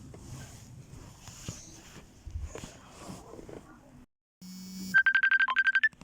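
A phone ringtone breaks in after scattered movement and footsteps, playing a rapid, loud run of repeated electronic beeps near the end, close and clear.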